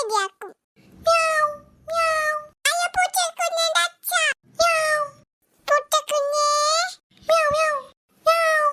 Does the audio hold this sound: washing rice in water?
no